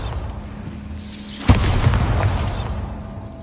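The Bombarda spell in Hogwarts Legacy sets off a single sharp explosive boom about midway, which leaves a rumbling, crackling tail over steady background ambience.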